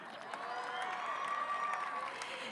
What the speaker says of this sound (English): You should clap at that one.